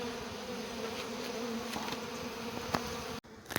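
Honeybees marching into a new hive box after relocation make a steady, close buzzing hum, with individual bees zipping past the microphone and a brief knock near the end.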